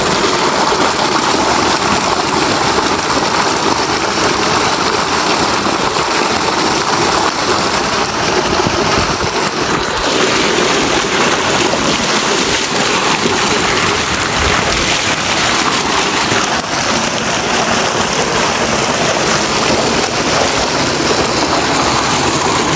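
Water from a solar-powered tubewell pours into a field canal, a loud, steady broadband rush that runs unbroken and without talk.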